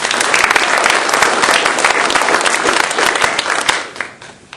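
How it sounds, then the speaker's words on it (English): Government and politics event audience giving a round of applause, loud, full clapping from a crowd that holds steady and then tapers off sharply near the end. "just an early round of applause for your guys' support"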